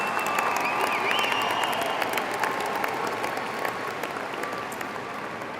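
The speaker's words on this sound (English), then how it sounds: "Please give our seniors a well-deserved round of applause" A graduation audience applauds the seniors at a 2023 high school commencement, a dense, steady wash of many hands clapping at moderate distance, holding evenly and easing slightly toward the end with no talk over it.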